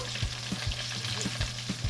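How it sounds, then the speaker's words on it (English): Close, steady sizzling of turkey frying in a pan for Haitian-style smothered turkey, with a faint hum beneath and soft periodic knocks like stirring. "Guys, you don't want to over fry this, okay?"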